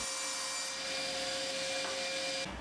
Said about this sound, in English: the first job was to rip it to what will be the depth of the cabinet at the table saw